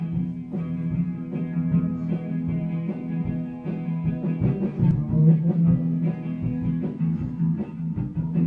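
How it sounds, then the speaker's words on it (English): A live band practices music downstairs in a house, a steady muffled mix of instruments and drums heard through the floor for the whole stretch, moderately loud and continuous. "The live band downstairs practicing right now"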